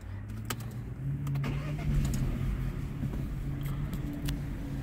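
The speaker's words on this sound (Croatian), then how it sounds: "Sad ćemo startati vozilo." An Opel Crossland X 1.2 Turbo petrol engine cranks and catches, then settles into a steady close idle with a few light clicks, and no talk over it.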